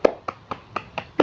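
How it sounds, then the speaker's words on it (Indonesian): A few hand claps from a primary school class cheering group 1, about six sharp separate claps in a loose, slow rhythm, close and moderately loud, with no talking. "kita beri tepuk tangan untuk kelompok 1"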